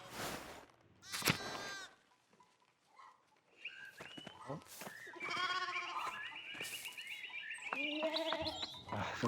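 Sheep bleating in the medieval video game Pentiment, several wavering bleats, some close and loud, overlapping over quieter stretches and light background sounds.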